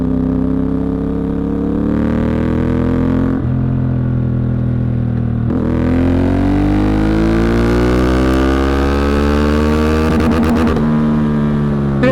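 A CFMOTO 450MT motorcycle engine pulling hard in third gear, loud and close, its pitch climbing steadily across several rising runs with brief breaks between them.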